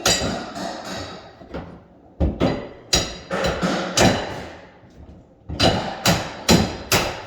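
Trim being pried and torn out of a pantry cabinet, a series of sharp knocks and cracking splits in uneven clusters with brief pauses, close and loud.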